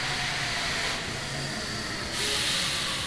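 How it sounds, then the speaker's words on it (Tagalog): A metro train arriving at a station rushes close by with loud, broadband hissing rumble and rising wheel noise, steady throughout with no voices. "Yan ang tren."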